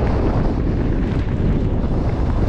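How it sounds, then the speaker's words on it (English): Strong wind buffets the microphone on a long-distance bike route, a loud steady roar with low rumbling gusts and no voices. "it's kind of windy."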